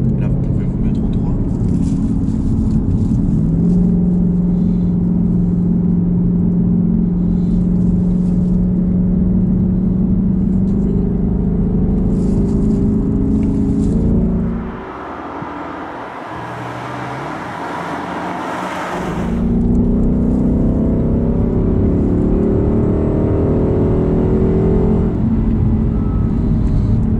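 A car drives along a road on a driving-course outing, its engine droning loud and close with rising pitch as it accelerates and road roar underneath, quieting briefly midway before building again while people talk in French.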